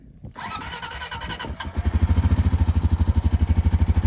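ATV quad engine that feels short on torque even in first gear, starting up with a brief crank and settling into a fast, throbbing idle, close and loud, no talk.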